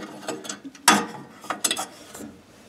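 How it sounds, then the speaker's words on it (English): Nut driver turning a nut on a furnace flame sensor mount, a few close metallic ratcheting clicks and scrapes in short bursts, with one louder clack near the start and a cluster of quick ticks later. "You see how it's on the nut driver?"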